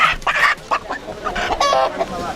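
A live chicken at an Ethiopian market clucks loudly and close, a rapid series of short squawking clucks with brief gaps, alone without talk.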